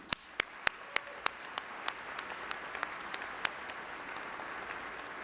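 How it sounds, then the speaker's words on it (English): At a 2010 NASCAR series awards show, sharp individual claps ring out at first, then build into a full round of audience applause that fills the space and sustains. "let's give a round of applause to all of the drivers and teams"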